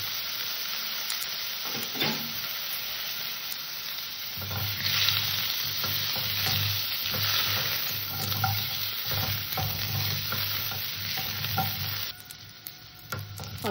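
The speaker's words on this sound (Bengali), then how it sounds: "আলু কটাকে ভেজে নেব" Potatoes fry in a little oil in a wok, a steady close sizzle with scraping stirs and occasional clinks running throughout, easing off briefly near the end.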